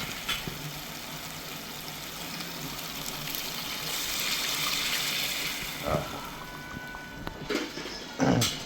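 Cooked dal water being poured into a cooking masala for a dal and ridge gourd dish; a soft, continuous watery pour with gentle splashing, followed by a few scattered clinks and taps of the pot.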